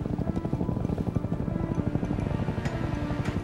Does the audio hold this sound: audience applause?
no